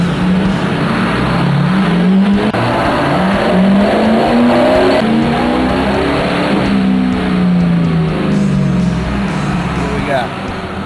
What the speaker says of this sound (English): Put it in third gear, release the brake off the dyno.